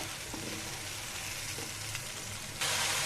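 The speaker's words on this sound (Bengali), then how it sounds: "পেস্ট করা মরিচ মশলা সব একসাথে দিয়ে দিলাম দিয়ে এ পর্যায়ে আমি কষিয়ে নেব ভালো মতে" Chili spice paste sautés in hot oil with a soft, steady sizzle, faint and continuous, and the hiss swells louder near the end.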